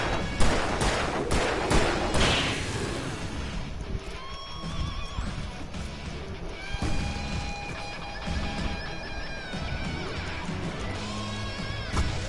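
A flashbang grenade goes off in the video game Alan Wake Remastered: loud, sharp bursts crack out in the first couple of seconds, then fade into ringing tones and lighter game sounds.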